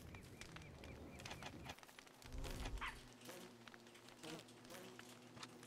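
Bees and wasps buzzing in the survival game Don't Starve Together, a faint insect drone layered among busy game sounds and music, with occasional voices in the background.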